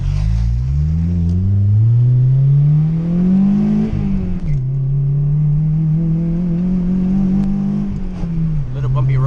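A 2002 Acura RSX with about 300,000 miles driving over a bumpy road, its engine droning loud and close as revs climb, then dip with a brief grinding scratch on the shift into third gear before pulling again.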